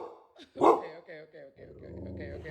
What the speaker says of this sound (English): I swear I didn't hear him bark for like the first 2 weeks of having him, but in this next clip, he heard something at the door.